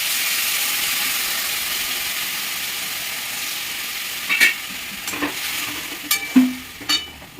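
Ginger paste with ground cumin and coriander and a splash of water sizzles steadily in a pan, a close hissing fry that eases off, then scraping stirs and clinks break in near the end.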